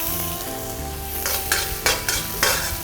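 Dried chili pieces and green and red Sichuan peppercorns fry in hot garlic oil in a heated wok, a steady close sizzle with several sharper crackling bursts toward the end, no talking.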